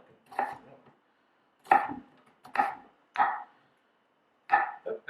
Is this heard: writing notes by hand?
no